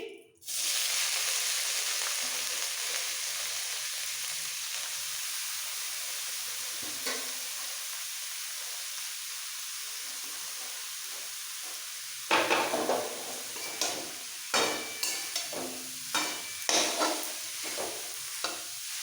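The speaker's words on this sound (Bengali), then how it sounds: "এইবার এই আলু ভাজা তেলের মধ্যে বাঁধাকপিগুলো দিয়ে দিচ্ছি" Shredded cabbage dropped into hot oil left from frying potatoes sizzles loudly in a steady hiss, then a series of sharp scraping stirs sound close up.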